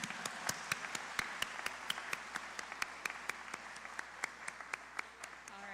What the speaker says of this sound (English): let's do one more big round of applause to all the student winners and all the families here